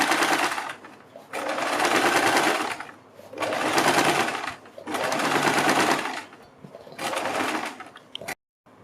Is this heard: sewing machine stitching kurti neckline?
yes